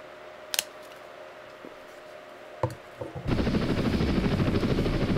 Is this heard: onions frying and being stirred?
no